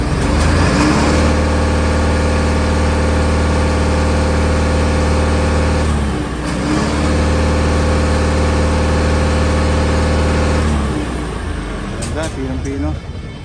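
A 2010 Isuzu Giga 12-wheeler wing van's 6UZ1 diesel engine runs steadily at close range, loud and continuous, with a brief dip in the middle before settling back to a smooth idle.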